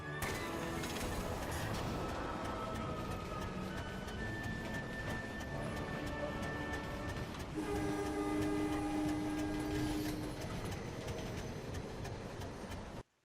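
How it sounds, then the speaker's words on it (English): Train ride in the video game MediEvil Remaster: a continuous loud rumble of a moving train with steady rolling noise, a sustained whistle-like tone and brighter tonal hoots partway through, ending abruptly. "It's time to hop on board the train once again."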